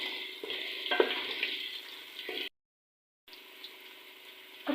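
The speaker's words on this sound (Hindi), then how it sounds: "गोश्त जो वो अच्छे से फ्राई हो गया और प्याज जो वो भी हमने अच्छे से भून लिया।" Mutton and onions fry in a pot for achar gosht, a moderate sizzle with a few stirring clinks, broken by a brief silent gap before the frying resumes.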